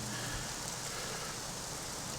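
Steady, even rain in the Mafia: The City of Lost Heaven game world, an unbroken wash of patter on surfaces, moderately loud and close, with no talking.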